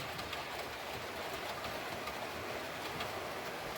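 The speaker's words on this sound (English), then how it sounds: "Right, you can see a train going on there." A faint, steady rolling rumble of a model train running along its layout track, with soft clicking and a hissy background throughout.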